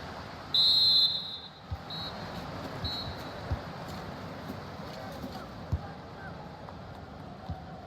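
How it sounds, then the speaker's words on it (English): A referee's half-time whistle in the football video game FC 25, a short shrill blast heard over steady stadium crowd noise, followed by fainter chirps and thuds within the ambience. "And there it is, the half-time whistle."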